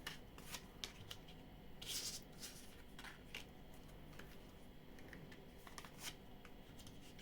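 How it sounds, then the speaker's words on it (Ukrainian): Playing cards are shuffled in repeated quick riffling bursts, close and fairly quiet, with no voices. "Перемішані карти."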